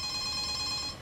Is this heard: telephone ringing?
yes